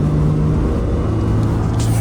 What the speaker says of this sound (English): let's get up to 110 on the freeway. I'll start accelerating from a K back